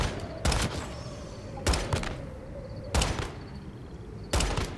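Four sharp, heavy gunshots ring out at a monster in a multiplayer open-world survival horror video game, evenly spaced over a few seconds, each a loud punchy crack with a short tail over a low ambient rumble.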